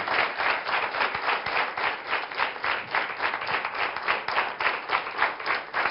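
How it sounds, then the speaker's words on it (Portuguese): Audience applause at a Portuguese studio health talk show, a dense, steady wash of many hands clapping that holds loud and even for about six seconds with no voices over it. "Uma salva de palmas para ele."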